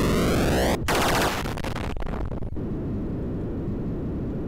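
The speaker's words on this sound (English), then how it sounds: "let's just kind of use all my smart bombs here." Smart bombs going off in the 1981 arcade game Stargate, a loud saturated burst of explosive arcade noise with a falling electronic sweep at the start, a few sharp cracks, then a dense roaring rumble.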